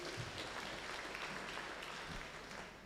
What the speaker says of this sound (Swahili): Asante sana Wamugo, tumpigie makofi.